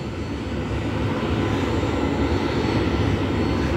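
Jet aircraft engines roar at Scottsdale airport, a steady, loud, broadband rumble and hiss that holds evenly without breaks and with no voices.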